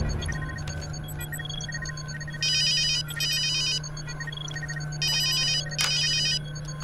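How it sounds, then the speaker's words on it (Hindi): A telephone rings while a call is placed in an action film, giving repeated electronic ring bursts over a steady low hum and a faint background bed, with no speech. "उस नए प्लेयर रिहाल खान को फोन लगाओ"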